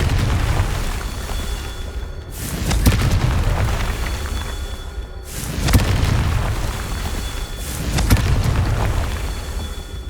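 Confringo fire spell blasts in Hogwarts Legacy gameplay: three loud booming explosions roughly every three seconds, each a sharp burst followed by a rumbling tail over continuous game background noise.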